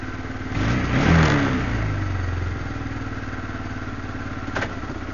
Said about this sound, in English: Don't you just love the sound of that engine?